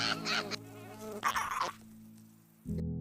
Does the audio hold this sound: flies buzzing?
yes